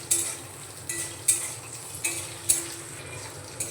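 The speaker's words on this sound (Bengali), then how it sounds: "পেঁয়াজটাকেও আমি একসঙ্গে একটু নাড়িয়ে নেব।" Chopped onion being stirred in a pan: a soft, continuous sizzle broken by about six sharp scrapes and taps of a spoon against metal at a regular pace, close by and with no voices.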